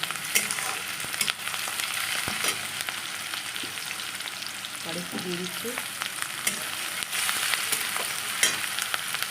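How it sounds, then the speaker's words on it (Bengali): Steady crackling sizzle of onion frying in hot oil, continuous throughout, with occasional clinks and a brief murmur of speech. "পেঁয়াজটা কেটে রেখেছি এটা একটু ভেজে নেবো"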